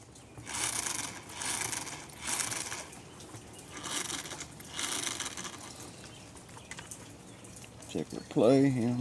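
Bolt being tightened on the engine mount of a Team Associated RC8B, heard as about five repeated, evenly spaced bursts of close ratcheting and scraping, with a brief voice breaking in at the very end.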